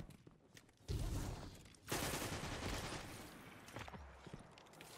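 Sniper rifle fire in a video game: two loud, sharp blasts about a second apart, the second followed by a long rumbling tail and scattered clatter, with no talking.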